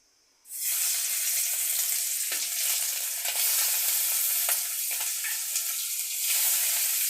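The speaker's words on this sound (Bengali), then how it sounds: "তেল গরম হয়ে গেছে এবার মাছগুলো আমি ছেড়ে দিচ্ছি" Tangra fish go into hot oil with a sudden loud sizzle that holds as a steady, close frying hiss with faint crackles throughout.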